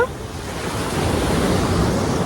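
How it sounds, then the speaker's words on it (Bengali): Sea surf at Puri beach on a cloudy morning rolls in as a continuous broad wash of breaking waves, loud and close with some wind noise. "তো এই হচ্ছে পুরীর সমুদ্র"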